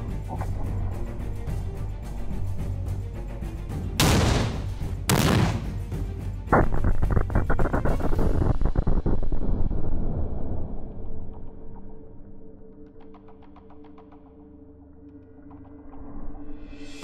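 An outdoor grenade blast goes off near a rock, with two sharp, loud booms in quick succession followed by a long rumbling roar that slowly fades into distant settling noise.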